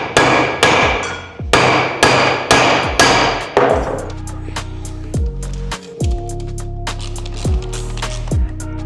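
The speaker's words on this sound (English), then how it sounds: "Luckily, I'm as good as Jeremy Clarkson with a hammer." Hammer blows on a crash-bent motorcycle mounting bracket from a Triumph Super Naked, several loud metallic strikes in a fast rhythm, then sparser, lighter ringing taps with a lingering metallic resonance.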